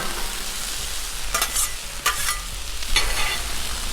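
Garlic hits a hot Blackstone griddle for a taco skillet, a loud continuous sizzle punctuated by a few crisp spatula scrapes and taps.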